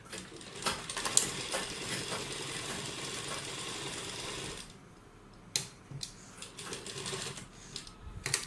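A sewing machine stitches a kurta neckline with a steady, fast mechanical whir and clatter that runs unbroken for several seconds, stops abruptly, then gives a few short bursts of clicking.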